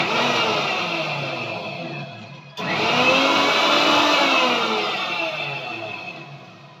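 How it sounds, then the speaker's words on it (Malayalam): A mixer grinder whirs loudly as it crushes ingredients with salted curd for a Kerala-style pachadi. It runs in two close bursts separated by a brief stop, and the motor whine rises and falls. "ഇതൊന്ന് ക്രഷ് ചെയ്തെടുക്കും ഒന്ന് ഒന്ന് മിക്സി കറക്കിയെടുക്കും"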